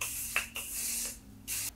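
Spray bottle misting during a makeup routine: three short hissing bursts, close and fairly loud, with brief pauses between them.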